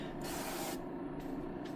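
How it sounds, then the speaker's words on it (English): Cooking oil sprayed into a heated cast iron Lodge skillet, a close hissing aerosol spray in two short bursts with a brief pause between. "Let's go ahead and spray in a little of the oil again."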